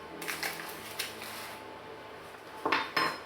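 Batter for a Rumba mosaic cake is stirred in a bowl with chopped Turkish delight, toasted walnuts, baking powder and flour, giving light utensil clinks and scrapes that end in a couple of louder knocks.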